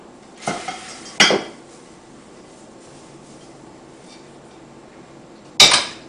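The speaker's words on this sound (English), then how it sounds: "let's put it in the bowl" Fresh popcorn being tipped into a bowl, with a few bright clattering bursts of metal and dish contact spaced apart over a quiet background, no voices.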